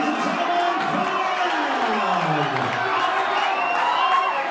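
Fans at a kickboxing main event cheer and yell for fighter Joel Oliver, a sustained roar of shouting voices and whoops that holds at a steady, loud level.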